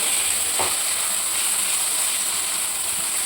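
Tomato frying in a pan with ginger and garlic gives a steady, loud sizzle throughout, with one brief clatter near the start.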